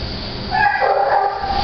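A year-and-a-half-old, 20-pound Pomeranian gives a thin, whiny whimper that rises into a short yipping bark, close and fairly loud, with no talking.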